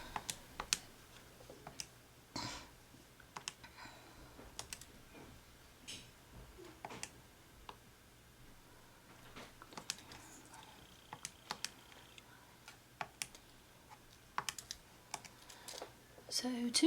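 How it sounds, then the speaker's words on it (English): Typing on a computer keyboard during a math lesson on parametric equations, scattered close key clicks in irregular bursts over a quiet room, with a few soft sounds of speech. "excuse me while I type that in again"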